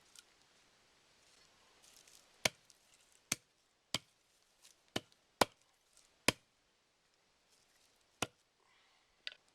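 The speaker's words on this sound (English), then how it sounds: "I'm going to chop a little bit of kindling up." A knife chopping kindling wood at a hunting camp, sharp isolated cracks in an irregular series of about eight clear strikes, close and crisp against a quiet background.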